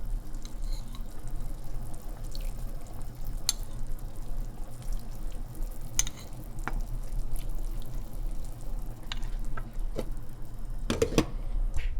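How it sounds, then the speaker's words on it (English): Half-cooked rice being drained, water dripping and trickling steadily under a low background hum, with a few sharp taps and splashes near the end. "Now it's a time to take the rice and drain it, because it's halfway cooked."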